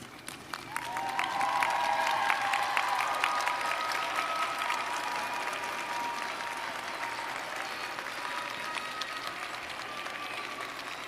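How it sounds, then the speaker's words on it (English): A large crowd at a university health sciences commencement applauds steadily, sustained clapping swelling quickly then holding at an even level throughout, with scattered sharper claps and faint cheers. "give great applause to the people who have supported you through this journey."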